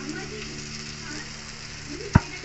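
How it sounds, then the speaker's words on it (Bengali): Tomato paste added to masala frying in oil gives a steady sizzle with a single sharp knock near the end, close and without speech. "টমেটোর পেস্টটা আমি দিয়ে দিব"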